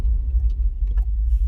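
A car engine idles inside the vehicle with a steady, deep rumble that holds evenly throughout, and no one speaks.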